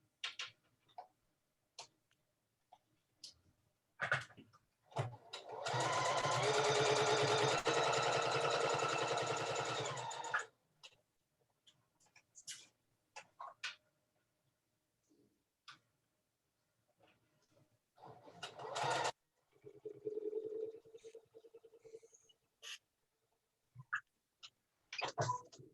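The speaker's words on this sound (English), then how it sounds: "Take it out of the machine and I'm going to sew it." Sewing machine stitching a flying geese quilt block, a steady run of rapid mechanical needle stitching lasting about five seconds, with a second short burst later amid quiet handling noises.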